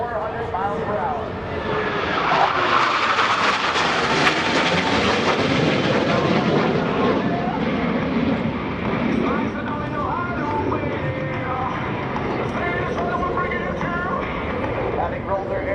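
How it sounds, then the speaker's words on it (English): US Navy Blue Angels jets roaring past at the NAS Oceana airshow, a sustained loud engine rush swelling and fading over a crowd, with an announcer talking over it. "Blue Angels 5 and 6 are approaching the flight line at 400 miles per hour."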